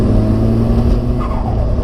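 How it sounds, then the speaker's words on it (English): A modified Nissan S14 with a turbo engine drones steadily close by, a loud, even engine note holding throughout with a faint rise toward the end. "I just love the turbo sound."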